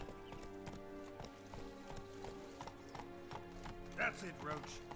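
Roach the horse trotting in The Witcher 3, a steady rhythmic clip-clop of hooves close by over a faint musical background, with a brief snort or whinny partway through.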